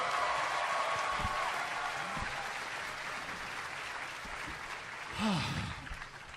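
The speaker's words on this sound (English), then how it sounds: "Let's give him all a round of applause again one more time." A convention audience at an RTX panel applauds, broad crowd clapping that slowly fades in intensity, with a brief voice or whoop rising near the end.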